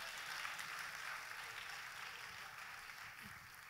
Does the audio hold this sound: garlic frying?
no